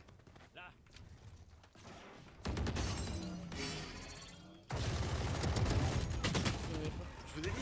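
The Odin machine gun firing in Valorant, loud sustained automatic bursts that start and stop in long stretches, with a brief quieter mechanical moment at the start and speech faintly mixed in.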